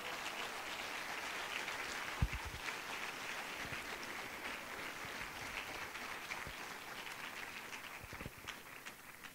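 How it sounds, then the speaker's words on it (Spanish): Church congregation clapping for the Lord during a Spanish-language worship service, a faint, steady wash of many hands heard from a distance and lasting throughout, with a few louder thumps over it. "¿Alguien le puede dar un aplauso fuerte al Señor en esta hora?"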